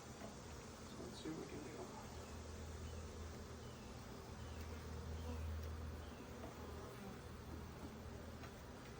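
Honeybees buzz steadily in an opened hive where two frames have been cross-combed together, a continuous close insect drone holding at even loudness throughout with no talk over it.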